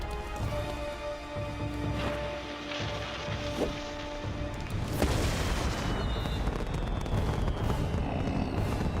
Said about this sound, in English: Nice touch setting off the fireworks.